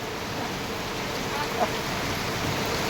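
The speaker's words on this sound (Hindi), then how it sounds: "वो बारिश हो गया मेरा मोबाइल भी भीग जा रहा है" Steady rain hiss fills the scene in Sambalpur, India, a constant broadband wash with a faint voice murmuring somewhere underneath.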